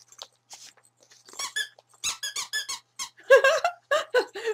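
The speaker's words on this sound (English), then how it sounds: "I just got a squeaky toy in that one." A squeaky dog toy squeaks in quick bursts, several short sharp squeaks in irregular clusters, fairly close and alone.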